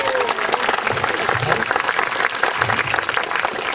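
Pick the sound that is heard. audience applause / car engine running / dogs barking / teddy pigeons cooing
audience applause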